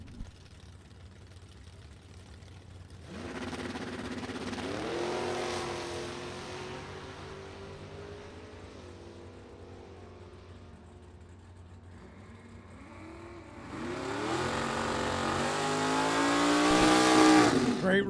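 Two drag race cars, a '67 Camaro with a 454 big block against a '65 Dodge with 466 cubic inches, roar away in a loud run. The engine wails rise and fall, then a second, even louder pass screams in near the end.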